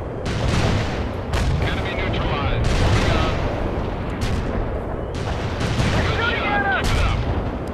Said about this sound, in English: Kill the tank, sir.